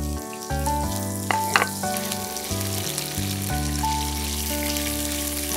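Onion fries in a pan for South Indian-style mango rice, a steady close sizzle with a brief clatter in the middle and a constant electronic hum beneath.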